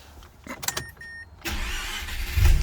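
A push-button start car or truck starts up: a few clicks and a brief electronic chime come first, then the starter catches and the engine settles into a steady idle close by.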